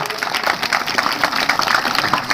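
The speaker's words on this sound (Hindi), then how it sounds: "पत्रकार भाई के भी हम ताली बजा के स्वागत कर रहे" At a village gathering in Bade Rabeli, Malkharoda, a crowd claps to welcome a journalist, a steady patter of many hands at moderate loudness lasting a couple of seconds.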